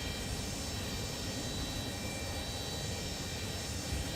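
Airplane engine on the ground before takeoff, throttling up into a loud, steady roar that fills the cabin evenly, with no talking.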